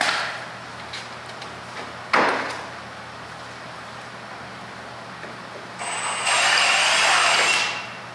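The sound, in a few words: driving screws into wood with power drill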